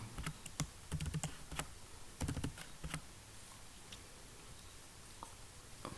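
Fingers tap out text on a computer keyboard in quick clusters of crisp, close keystrokes, with pauses between bursts over a quiet room hiss, and no talking.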